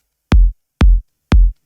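Three punchy melodic techno kick drum hits land evenly about half a second apart, each a deep thump with a short click at the attack, loud and dry against silence.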